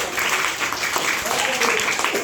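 A school class claps in a brief burst of applause, fairly close and steady, with a teacher's voice talking over it.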